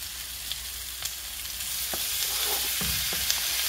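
Tomatoes hit a hot, browned pan for a Kenyan kienyeji chicken stew, setting off a steady broad sizzle with a few soft stirring knocks and splashes, close and continuous with no talk.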